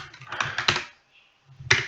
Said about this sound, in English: I'm typing Chinese.